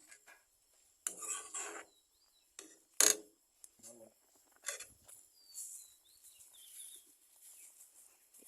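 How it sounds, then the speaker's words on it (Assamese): A spoon stirring Assamese payesh, rice pudding with raisins, in a metal pot, giving sparse close clinks and scrapes with quiet pauses between, faint and without talk. "আমি পায়সখিনি ধুনীয়াকৈ লৰাই দিম।"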